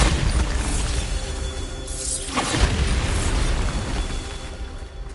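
A Bombarda blast spell erupts in Hogwarts Legacy, a booming, shattering explosion with a sharp sweeping crack midway, followed by a sustained rumbling roar.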